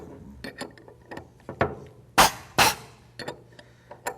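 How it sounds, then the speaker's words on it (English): A modified wrench tightens a retainer on a triggered gun, giving a run of close, sharp metallic clicks and ratcheting clinks with a few louder scraping bursts near the middle, heard alone without talk. "Use our modified wrench to tighten it up."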